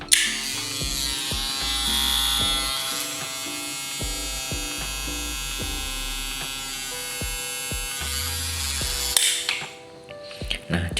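A homemade, self-assembled table saw's motor runs steadily and loudly with a constant mechanical whine and hum, then winds down near the end.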